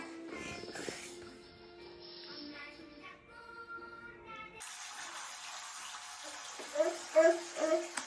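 Tap water runs and splashes into a basin in a home setting with a 14-month-old baby, first under soft voices and toy-like tones, then a clearer gush with louder splashes near the end.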